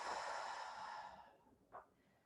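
A single soft exhale during a Pilates-style rollerball exercise, a breathy sigh fading out, then a brief faint puff of breath near the end, close and quiet with no talk.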